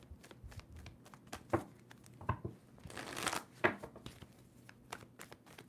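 Tarot cards being shuffled, a few faint papery riffles and soft slaps in short bursts with quiet gaps between, close by in a hushed room.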